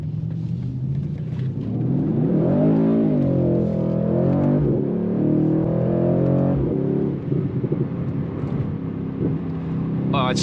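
A 2018 Mercedes-AMG C63 S engine rumbles deep and close, its note swelling and sinking as it is revved, with a steady low drone throughout.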